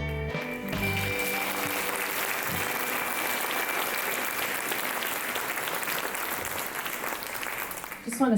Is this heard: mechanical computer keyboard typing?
no